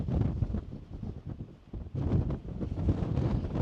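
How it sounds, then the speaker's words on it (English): Wind gusts rumble across a microphone outdoors in Badlands National Park on a windy, dusty day, a steady buffeting roar that dips briefly, then surges back strong. "It's a bit windy and dusty"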